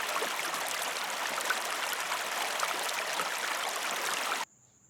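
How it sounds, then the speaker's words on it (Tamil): A waterfall pours in a steady, dense rush of white-noise water sound that stays even and loud, then cuts off abruptly near the end. "அ அருவி."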